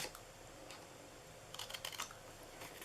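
Small cutting and tapping sounds while flaps are cut into a paper Valentine's Day box, very faint and close, a few soft clicks and snips over a quiet background.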